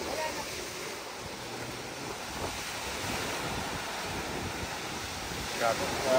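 Wind and lapping waves along the Laguna de Bay shoreline make a steady rushing wash, with wind buffeting the microphone and faint voices in the background.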